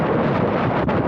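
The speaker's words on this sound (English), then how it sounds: "there's a gust coming through." A strong gust of wind roars across the microphone while sailing a Hobie Adventure kayak, a loud continuous rushing buffet lasting about a second.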